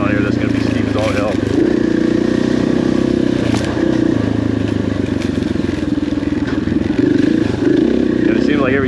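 An off-road motorcycle engine drones and revs steadily on a steep black diamond dirt trail loop at Penny Pines OHV, loud and close with wind buffeting, while a rider talks over it.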